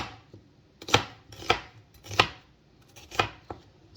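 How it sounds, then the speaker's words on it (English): An onion being chopped with a knife on a board, five distinct thuds spaced about half a second apart, close and clear with no talking. "So you chop up your onion."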